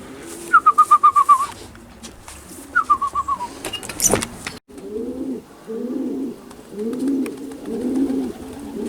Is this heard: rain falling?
no